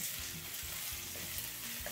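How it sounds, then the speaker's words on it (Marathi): Finely chopped green chillies sautéing in a hot pan for soup, a steady close sizzle and fry with faint stirring scrapes, no one speaking. "काही सेकंद आपण परतून घेतो"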